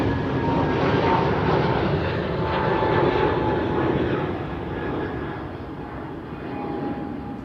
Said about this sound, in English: Transavia on its way to Palma de Mallorca.